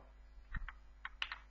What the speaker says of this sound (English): here I'm just typing some text